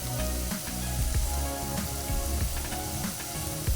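Chutney masala sautés in hot oil in a pan for a Kolhapuri misal, giving a steady, dense sizzle with light crackling throughout, close and continuous.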